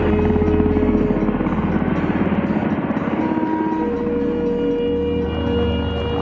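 A Mil Mi-1 helicopter runs steadily and loudly for several seconds, its rotor and engine drone continuous and close with a faint rhythmic beat and no voices.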